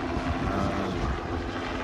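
Helicopters approach, a continuous low rotor and engine rumble held at a steady, moderate level with no speech.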